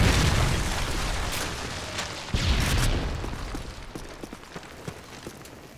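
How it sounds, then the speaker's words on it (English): A Predator missile strike in Modern Warfare 3 gameplay: a loud, broad rumbling blast that swells, cracks and slowly fades, followed by scattered smaller pops and impacts. "Predator missile inbound."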